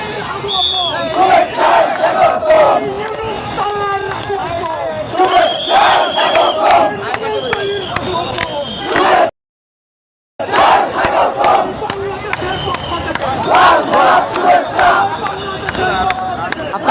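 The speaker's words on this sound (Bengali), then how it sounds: "স্লোগানে স্লোগানে উত্তাল এয়ারপোর্টের সামনের যে রাস্তা যে মহাসড়ক এখানে মিছিল বের করেছে" A protest procession chants slogans on the highway in front of the airport, a large crowd shouting rhythmic call-and-response cries loud and close, broken by a brief silent gap before the chanting resumes.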